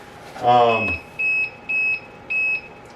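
A short electronic chirp followed by three evenly spaced steady low-battery warning beeps from a nearby Bissell SpinWave robot vacuum, with a faint voice at the start.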